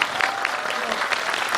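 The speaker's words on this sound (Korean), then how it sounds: "네, 그러면 이 자리 박수로 마무리하겠습니다." Audience applause fills a film festival Q&A hall in Busan after a screening of the film Monster, a steady dense patter of many hands clapping close and continuous throughout.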